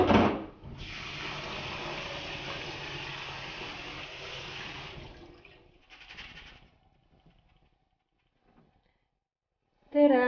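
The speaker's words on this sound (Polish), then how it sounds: "Po pierwsze mamy tutaj ryż, to jest najważniejsze składniki i go musimy wypłukać." Rice for Mexican arroz con leche is rinsed under running water at a kitchen sink, a steady hiss of the tap for several seconds, then swishing and dripping as it tapers off, followed by a sharp clatter at the end.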